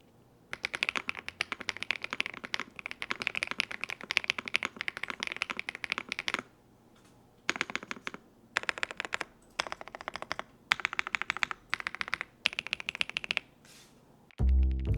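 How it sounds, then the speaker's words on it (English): Rapid typing on an Epomaker TH99 keyboard with Jade creamy linear switches, close and clear, in dense bursts of soft, smooth keystrokes separated by short pauses, ending in a louder thump. "the keyboard are these beautifully colored Jade creamy switches. These are linear switches with an actuation force of 45 gram forces"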